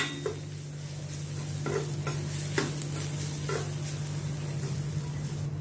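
Corn being stirred together with onion and spices in a pan: a soft, steady sizzle with a few light scraping strokes of the spoon at intervals, close and fairly quiet.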